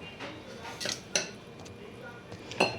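A cake batter of wheat flour, carrot, sugar and ground almonds is whisked in a bowl, a utensil clinking and scraping against the sides in a few sharp close strikes over a quiet background.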